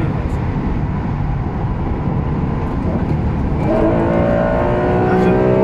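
A Honda NSX sports car engine roars at a steady drone, then climbs in pitch as the revs rise toward the end, loud and close.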